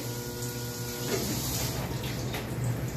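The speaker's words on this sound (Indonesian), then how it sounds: "Sekarang saya coba airnya saya buang dulu ya." Water draining from a Ferroli water heater, a continuous loud rushing flow with a faint steady hum beneath it, close and unbroken throughout.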